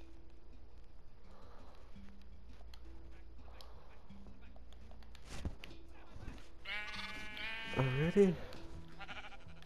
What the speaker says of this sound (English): Let me put in a pig and sheep.